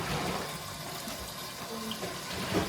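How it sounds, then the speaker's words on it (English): Meat being rinsed under a running kitchen tap, a steady broadband rush of water that holds for the whole moment, fairly close and moderately loud, with faint clatter near the end. "I just rinse my meat."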